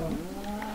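A cow in Minecraft with the Pokemobs mod gives a single short, steady moo lasting under a second, close and fairly loud against a low game background.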